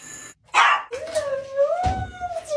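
A dog howls and whines in a home, with a long wavering sustained cry after a brief noisy yelp, fairly close and loud, with no talking.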